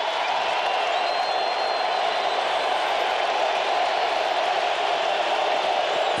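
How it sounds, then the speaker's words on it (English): A packed stadium crowd at a 2006 Falcons vs Cowboys NFL game swells into a sustained, loud roar of cheering and noise, steady throughout with no distinct voices standing out. "Crowd's really getting loud right now."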